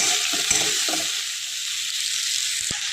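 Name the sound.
potatoes frying in oil and being stirred in a pan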